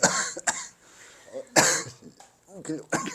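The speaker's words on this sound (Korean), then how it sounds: "갑자기 기침이 계속 나오고 있어." Several sharp coughs nearby in a classroom, broken up by bits of a teacher talking between them.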